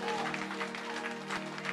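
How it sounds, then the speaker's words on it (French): A church congregation claps steadily and fairly loudly during a sermon, with music tones sustained underneath. "Donne une bonne main d'acclamation au Seigneur avant de t'asseoir encore"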